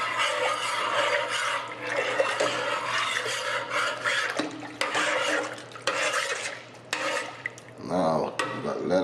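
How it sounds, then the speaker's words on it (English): Tomato sauce and water stirred in a cooking pan, a steady scraping, sloshing rasp that runs almost continuously at close range with brief pauses and a few louder clanks near the end. "Now you can stir it."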